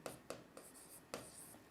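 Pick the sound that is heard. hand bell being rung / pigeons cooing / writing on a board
writing on a board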